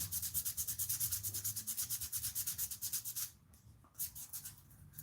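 Sandpaper scrubs rhythmically back and forth over a handmade gladius, quick even strokes close up, pausing briefly near the end before resuming.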